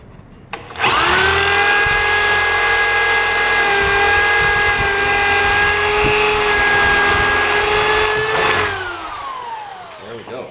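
A power drill bores a hole in wood for a trebuchet, spinning up sharply and holding a loud, steady whine for about eight seconds before winding down, close to the listener.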